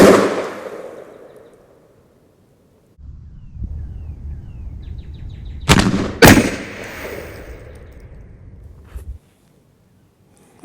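A Mossberg 835 12-gauge shotgun with a Carlson's Long Beard XR choke fires at a turkey target outdoors, one sharp, loud blast with a quick echo and a second report close behind, amid quiet background.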